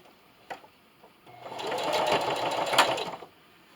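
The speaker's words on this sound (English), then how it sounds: "I'm going to sew until I'm about 1/4 inch on the opposite side of my opening." A sewing machine runs a straight stitch to close the opening of a Christmas stocking, starting with a couple of brief taps, then whirring steadily for about two seconds, close and alone, before stopping.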